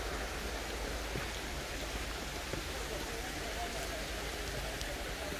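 Water in a brook flows near a canyon site, giving a steady, broadband rushing and babbling that stays even and fairly loud throughout, with no voices.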